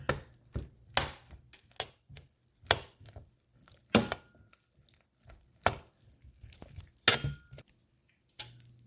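A spoon stirs mushrooms into a pot of homemade tomato sauce made with garden vegetables, producing scattered clinks and scrapes against the pot at an uneven pace, fairly close and quiet between the knocks.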